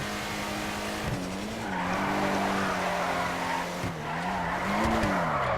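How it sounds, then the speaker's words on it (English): A Übermacht Zion Classic in GTA 5 Online drifts around a corner with a loud engine drone and tire squeals that rise and fall in waves, close and continuous. "Shouldn't have tried to drift around that corner."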